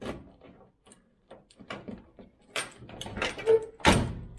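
A key scrapes and clicks against a car door privacy lock, with irregular metallic rattles and fumbling taps building to a few louder clacks near the end, close up and with no voices.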